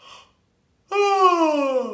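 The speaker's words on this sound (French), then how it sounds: "On va bâiller." A human yawn during a voice exercise: a short breath, a pause, then a long voiced yawning sound that slowly falls in pitch, close and clear.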